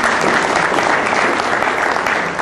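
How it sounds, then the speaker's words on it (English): Audience at a table tennis association anniversary meeting applauding, a steady, dense wash of clapping from a moderately sized group, continuous and fairly close throughout. "thank you everybody for applauding the few that were here"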